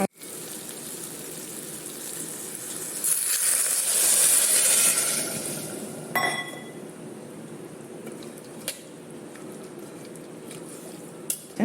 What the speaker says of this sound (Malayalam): ഇനി വെള്ളം കൂടെ ചേർത്ത് കൊടുക്കാം